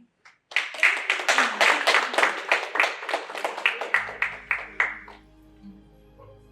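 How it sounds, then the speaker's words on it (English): An audience at a workplace equity event claps in a brisk burst of many hands lasting about four seconds, fairly close and loud, then fades into quiet room tone. "I think that clap is not good enough."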